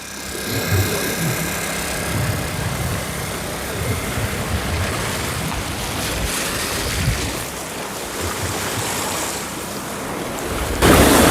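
Sea waves wash in at high tide on a windy, rough day at a rocky fishing spot, a steady roar of surf mixed with wind buffeting the microphone, loud and continuous with no voices.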